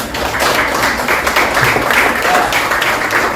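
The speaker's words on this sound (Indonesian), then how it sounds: "Oke, tepuk tangan untuk Bulan." Classroom applause for a student, many hands clapping in a dense, continuous, fairly loud patter with no voices over it.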